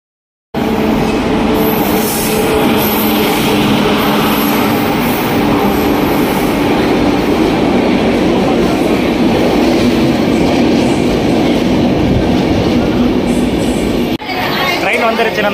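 A train arrives at a station in India, rumbling steadily with rhythmic clacking and squealing wheels, loud and close, as a crowd murmurs in the background.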